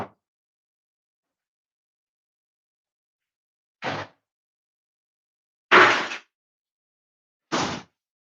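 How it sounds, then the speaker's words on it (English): An indoor door banging in the wind: three separate sharp knocks, a few seconds apart and fairly close, with silence between them. "I'm going to go close this door, which is banging."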